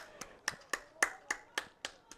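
A lone spectator standing and clapping for a baseball pitcher after a ten-strikeout outing at a fall school game, about eight sharp, evenly spaced claps, fairly faint, with no talk.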